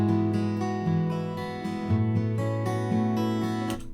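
Ample Sound virtual Martin and Taylor acoustic guitars play together in a DAW mix, layered strummed chords ringing full and bright with a steady rhythm, heard alone without talk.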